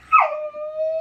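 A puppy gives one short, high yip that slides straight into a thin, sustained whimper, close and alone for about a second.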